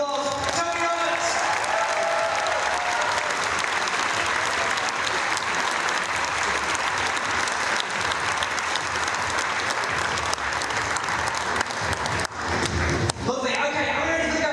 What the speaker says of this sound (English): give them a massive round of applause. Tony Roberts!